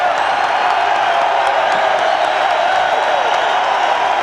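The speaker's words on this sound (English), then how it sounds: "Crowd wants him to come out." A stadium baseball crowd roars in a steady, dense wall of cheering after Brian McRae's grand slam for the Chicago Cubs against the San Francisco Giants, loud and continuous with scattered whoops and clapping throughout.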